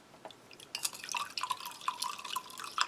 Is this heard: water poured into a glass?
yes